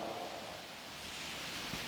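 Steady rain falls outdoors in a continuous broadband hiss that stays even and fairly close throughout, with no voices.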